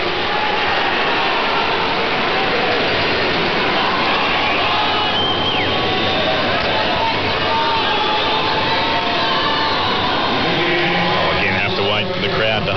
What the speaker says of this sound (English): Again, have to wait for the crowd to hush.